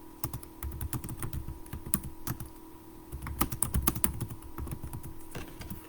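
Typing on a computer keyboard, quick irregular clicks and taps close by, moderately quiet, with a denser flurry of keystrokes in the second half.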